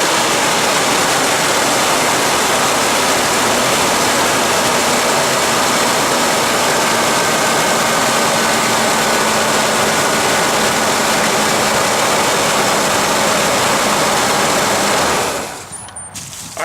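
A car engine runs steadily after a battery replacement. It is a loud, continuous, rough roar and hum that holds for about fifteen seconds before dropping away near the end, with no talk.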